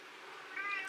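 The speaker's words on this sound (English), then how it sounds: "Yes, I know you're meowing at me." A pet cat gives a single short, fairly quiet meow near the end, rising out of faint background fan hum.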